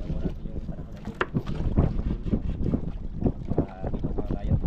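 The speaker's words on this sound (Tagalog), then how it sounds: "Medyo mahangin-hangin kaya hindi tayo makapaglaot ng malayo." Gusty wind buffets the microphone on open water, roaring unevenly with a boat's motion and splashing beneath, and someone talks over it.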